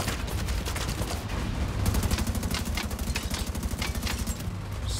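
Rapid automatic gunfire from The Division 2 rattles in dense, continuous bursts, loud and close throughout, with sharp cracks layered over a low rumbling bed.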